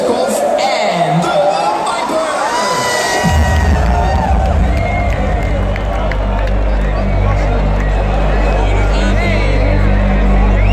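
Loud crowd at an X-Qlusive Holland hardstyle DJ event in 2016 cheering and whooping for the DJs, swelling into a dense roar over a heavy bass drone that kicks in a few seconds in and holds to the end.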